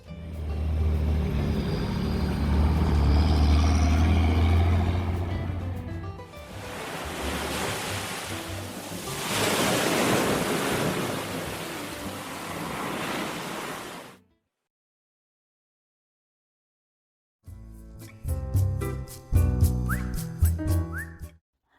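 Ocean surf rolling onto Copacabana Beach in Rio de Janeiro, a steady broad wash of breaking waves with some wind across the microphone, loud and close for about fourteen seconds before cutting to silence and then unrelated sound.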